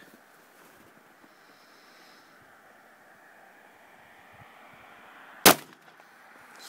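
A shotgun loaded with a cut shell fires once at a target outdoors, a single sharp, loud blast near the end that stands out over faint wind and background noise.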